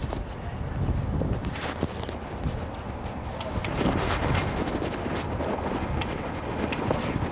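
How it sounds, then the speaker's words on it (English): Wind buffets an outdoor microphone in steady gusts, a continuous rough rumble and hiss that runs throughout with faint scattered knocks beneath it and no talk. "The wind is blowing."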